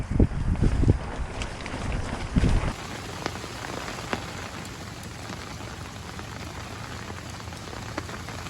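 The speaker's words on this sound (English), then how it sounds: "We just got like 40 minutes of moderate rain" Moderate rain falls in East Texas, a steady close patter on surfaces with a louder, gustier burst of drops and wind at the start that settles into an even, continuous hiss.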